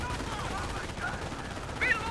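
A captured MG42 machine gun fires in the real-time strategy game Company of Heroes, a dense rattling burst running under the steady voice of a commentator.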